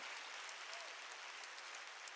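Church congregation clapping during a worship service, a steady, dense wash of applause filling the whole short stretch at a moderate, slightly distant level.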